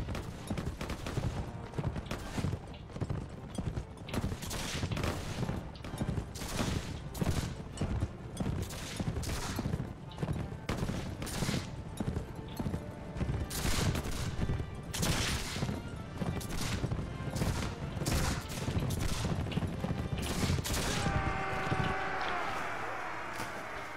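Gunfire in Mount & Blade With Fire & Sword, a long stretch of frequent sharp musket-style shots and clashing battle noise, loud and nearly continuous throughout.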